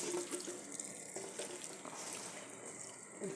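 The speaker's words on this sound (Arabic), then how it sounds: "نكبوا عليها الماء الطايب." Hot water is poured over seffa with chicken, a steady close splashing stream with a faint sizzle and trickle, continuous for a few seconds without talking.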